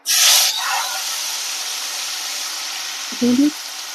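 Small mourala fish hiss in hot oil in a kadai, starting with a loud burst as they go in and settling into a steady, close sizzle that holds for several seconds.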